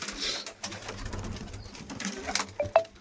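A pet flying pigeon gives a few soft, low coos close by, mixed with light rustling and handling noises.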